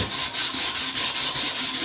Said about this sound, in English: Probably one of the favourite parts of making the knife is actually the final sanding